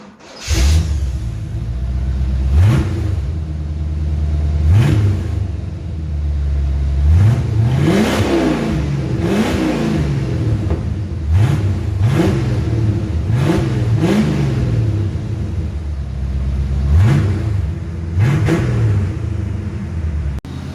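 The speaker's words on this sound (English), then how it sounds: "fun little clip of Isaiah revving his sexy Corvette" A 1984 C4 Corvette V8 engine revs repeatedly, each throttle blip rising and falling over a deep idling rumble, close and loud for about twenty seconds.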